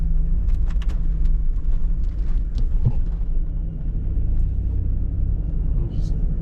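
A 22-year-old Hummer H2 drives along with a steady low engine rumble and road noise underneath, while a voice talks over it.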